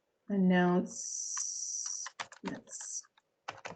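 Rapid clicking keystrokes on a computer keyboard come in quick bursts and pauses, close and fairly quiet, after a brief spoken word.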